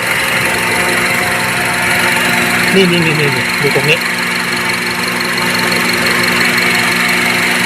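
A 2008 Honda CR-V 2.0 4WD engine running on LPG idles with a low, steady hum while someone talks excitedly over it.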